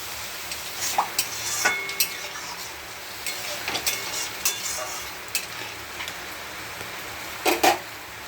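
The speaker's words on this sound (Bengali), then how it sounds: "এবার জল দিয়ে দেবো" A small splash of water goes into a pan of hot oil while a fish curry cooks, giving a steady close sizzle broken by scattered scraping and clinking stir strokes, with no talk.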